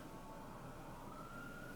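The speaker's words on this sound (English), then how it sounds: "there's a siren going off" A siren wails outside, faint and distant, with a steady rising tone held under a dull wash of background noise and no talk.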